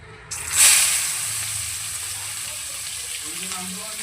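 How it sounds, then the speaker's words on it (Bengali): Sliced onions hit hot oil spiced with whole garam masala and a dried red chilli, bursting into a loud hiss that settles into a steady, even sizzle. "বেশ খানিকটা পেঁয়াজ দিয়ে দিলাম পেঁয়াজটাকে খুব সুন্দর করে লাল করে ভেজে নেব"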